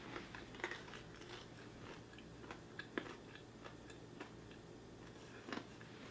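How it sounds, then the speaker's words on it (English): Someone chews crispy honey-glazed fried chicken, with steady close crunches and small ticking bites repeating at an irregular rhythm over a faint background hum. No one speaks. "It's like chewing on a crouton."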